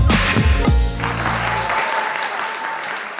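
Studio audience applause welcoming the host onto a talk show, a burst of loud, close clapping at the start with some sharp claps, then tapering into a softer, sustained wash that fades out.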